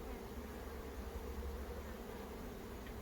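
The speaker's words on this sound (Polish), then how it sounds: "Widzicie, ile pszczół tutaj jest?" A steady, dense buzz of many honeybees swarming around an apiary, continuous and fairly quiet with no voices.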